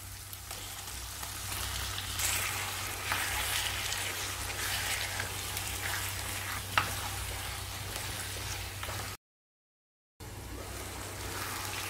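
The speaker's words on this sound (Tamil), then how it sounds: "இப்போ சிக்கன் சேர்த்து வதக்கிடலாம்." Chicken sautéing in a pan for Chettinad pepper chicken, with a constant close sizzle and occasional stirring scrapes; the sound cuts out completely for about a second before resuming.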